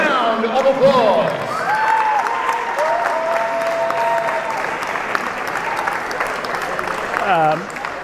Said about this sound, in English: Can we give President Scolaris a big round of applause?